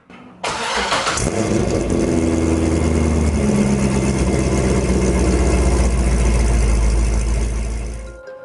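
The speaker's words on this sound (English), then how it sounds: "we'll play a startup clip of this car" A Pontiac Firebird WS6 engine cranks briefly and catches, then settles into a loud, steady idle that continues to the end.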